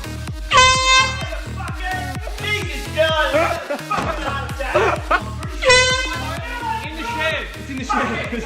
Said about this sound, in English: Got yourself an air horn.